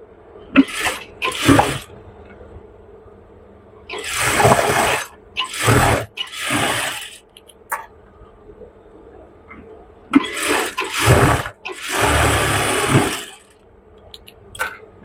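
A sewing machine stitches elastic onto pajama pants in several separate short runs, each burst of whirring lasting a second or so, with quiet pauses and small clicks in between.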